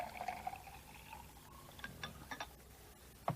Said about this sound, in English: Pour it quite fast and then it won't spill.